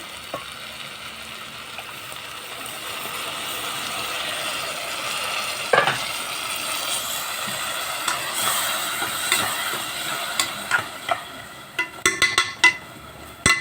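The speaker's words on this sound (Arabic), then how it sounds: "هننزل بقى بالطماطم." Tomatoes tipped into a pan of onion and country-style ghee for a peas dish, sizzling and frying steadily with scattered stirring knocks and clatter building toward the end; no talk.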